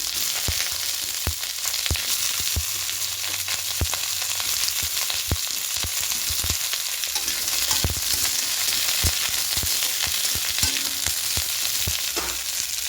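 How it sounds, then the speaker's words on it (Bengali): Potatoes tossed into frying spice paste sizzle steadily in hot oil, a continuous bright hiss with occasional sharp pops and spoon scrapes, close and with no voices. "এবার এখানে মশলা পেস্টটা হয়ে গেছে, ভাজা হয়ে গেছে। এখানে আলুগুলো দিয়ে দেবো"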